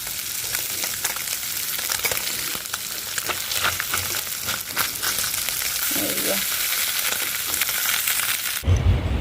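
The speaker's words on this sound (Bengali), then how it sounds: "মাছগুলো ভাজার কিন্তু খুব ইজি একটুখানি হলেই হয়ে যায় এপাত ওপাত একটু উল্টে দিলেই মশমশা হয়ে যায়" Fish frying in a pan, a steady loud sizzle of hot oil running the whole time with scattered crackles and pops, close up, ending in a brief louder burst.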